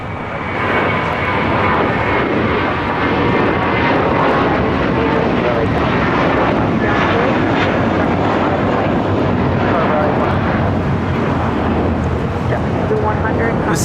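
JetBlue Airways jet taking off from LAX, a steady loud broadband engine roar that holds throughout with a constant rumble.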